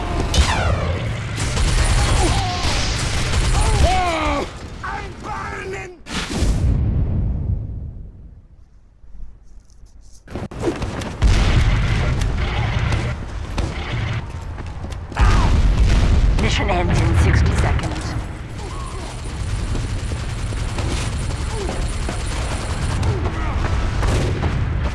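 Heavy weapon firing in Team Fortress 2 comes as loud, sustained bursts of booming gunfire mixed with game sounds and voices, with a brief lull in the middle before the shooting resumes.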